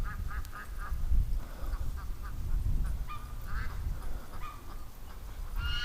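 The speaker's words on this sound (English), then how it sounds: "Oh, that duck's mad at me." A hen duck quacks angrily after being lifted off her nest in a garden, loud repeated harsh quacks in uneven bursts close by, over a steady background rumble.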